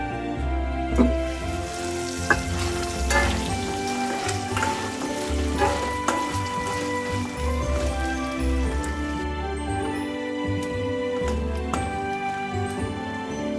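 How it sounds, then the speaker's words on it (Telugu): Chicken pieces frying in a pan until crisp, a steady dense sizzle with crackling and spattering pops running throughout, fairly close and continuous, with no one speaking over it. "చికెన్ ఇంకా ఫ్రై అవ్వాలి ఈ చికెన్ ఫ్రైకి చికెన్ క్రిస్పీగా ఉంటే బాగుంటుంది"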